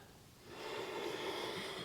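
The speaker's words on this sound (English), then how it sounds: "Using that Ujjayi breath" A single slow Ujjayi breath during a hip and hamstring yoga flow, a soft, close, hissing throat breath that swells and holds steadily to the end, with no talking.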